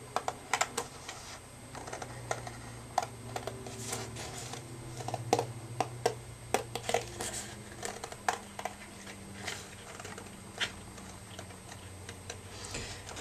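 Scissors snip out a printed paper figure for a Halloween craft, giving a close, irregular run of sharp little cuts and clicks over a quiet room background.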